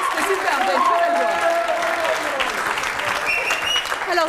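A studio audience on a French TV karaoke contest applauds loudly for a singer after her performance. The clapping is steady and sustained throughout, mixed with whistles and cheers and a voice speaking over the noise.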